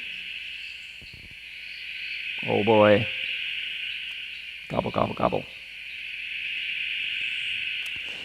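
Frogs after rain keep up a dense, steady high-pitched chorus throughout, with a voice speaking briefly over it twice.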